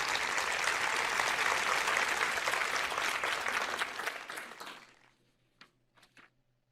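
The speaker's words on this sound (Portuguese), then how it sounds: "eu não me importaria se alguém aplaudisse isto" Audience applause during a church sermon fills the first four seconds as dense, steady clapping, then fades out by about five seconds, leaving near silence with a few faint scattered sounds.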